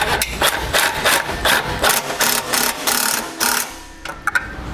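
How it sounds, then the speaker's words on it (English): Tightening an 8mm horn bolt on a 2016 vehicle during a base plate install: a rapid, steady run of ratchet clicks up close, stopping briefly near the end for a few last sharp clicks. "Put it in its tab and reinstall the 8mm bolt. And we'll tighten the bolt down."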